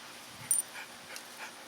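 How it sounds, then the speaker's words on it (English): A pet dog makes a few soft, short yips or whimpers close by, faint and brief against a quiet room with no talking. "this is our majestical dog, Coco."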